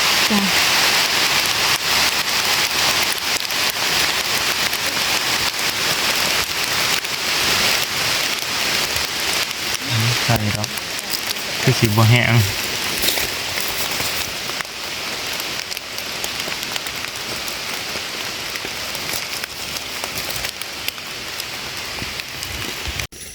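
Heavy rain drums steadily on a surface for the whole stretch, with someone speaking briefly beneath the downpour.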